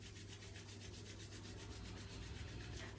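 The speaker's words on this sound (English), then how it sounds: "rubbing your hands together." Hands rub together gently during a breathwork session, a soft, continuous swishing friction that repeats in an even back-and-forth rhythm, quiet and close with no talking.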